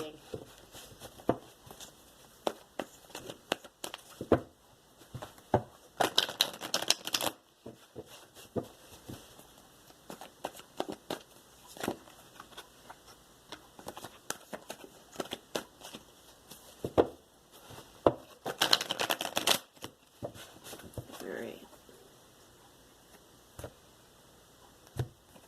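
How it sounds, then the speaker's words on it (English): Tarot cards being shuffled by hand, soft papery riffles and taps in two brief louder bursts amid quiet ticking handling noises, close and fairly faint. "I'm going to give a couple of good shuffles here, and then we'll get started in your reading"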